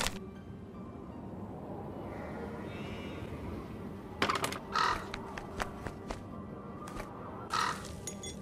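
Crow caws in the Nancy Drew game The Haunting of Malloy Castle: a few sharp calls at about four seconds and again near the end, set over a low steady ambient bed with scattered clicks.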